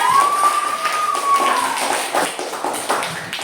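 Schoolchildren in an Indonesian classroom clap for a group during a lesson, a dense run of near hand claps with a brief whistle-like tone near the start.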